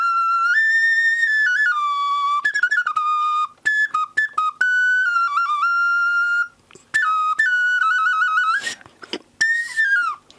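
A folk clay whistle shaped like a beetle gives loud, clear, piercing tones, sustained notes broken by rapid warbling trills and short chirps, played alone up close.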